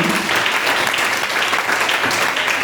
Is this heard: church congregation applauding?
yes